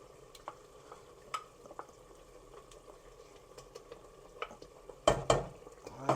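Whisked yogurt is mixed in a pot on a hot stove, giving faint soft stirring and sizzling with scattered light scrapes and clicks of the spoon, then a short louder burst of sizzle near the end.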